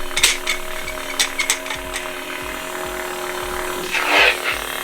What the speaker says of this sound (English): And we unscrew this.